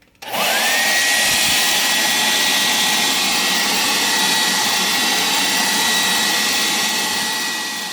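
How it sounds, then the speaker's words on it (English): A hair dryer blows loudly and steadily after a quick start, its constant whooshing hum with a faint high whine running throughout. "I'm going to use a hair dryer to speed up the drying"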